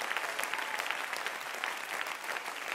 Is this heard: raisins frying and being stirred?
no